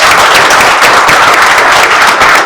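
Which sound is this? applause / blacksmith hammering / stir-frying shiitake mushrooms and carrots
applause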